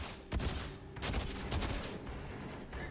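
Shotgun fire in the video game Outriders: several loud, sharp blasts in quick succession, heavy booming bursts spaced irregularly over a constant din of game noise.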